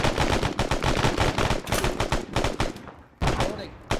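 Rapid bursts of automatic rifle fire in a military video game, loud and close, in dense repeated volleys with brief gaps, with a voice faintly under the shooting.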